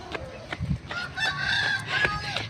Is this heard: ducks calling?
yes